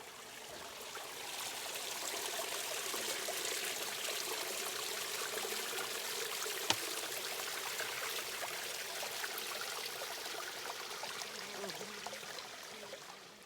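A mountain stream on the Pacific Crest Trail rushes and trickles steadily, a broad continuous wash of flowing water close by, with one brief sharp click partway through and no voices.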